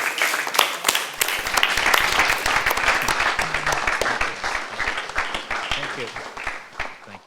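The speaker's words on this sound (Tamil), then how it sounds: "இப்போ அவங்கள கைத்தட்டி வரவேற்க போகிறோம்." A church youth program audience applauds to welcome a speaker, with dense, loud clapping that gradually thins and fades toward the end.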